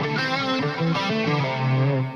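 Electric guitar through a Red Seven Leviathan preamp on a Line 6 Helix, a cleanish modulated tone with chorus-like shimmer, a few sustained notes and chords ringing out alone.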